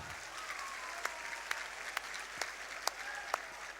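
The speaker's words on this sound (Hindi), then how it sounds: "एक बार आप लोग अपने लिए ताली बजा दीजिए जिनके पास 2 हाथ है।" A crowd at a political rally in India claps, a steady wash of applause with sharper individual claps popping through throughout, moderately loud with no voice over it.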